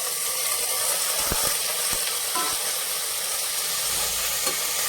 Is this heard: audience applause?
no